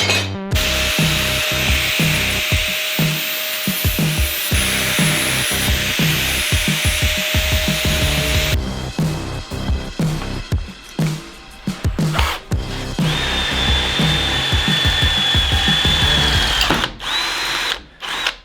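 A power drill bores three holes in an XY GT Falcon, whining loud and close in sustained bursts with brief pauses and pitch shifts as the bit bites through the material.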